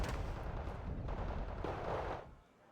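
Heavy tank cannon shots in a video game battle, with side armour hits on enemy tanks; a dense, loud barrage of booming fire that keeps going and then drops away near the end.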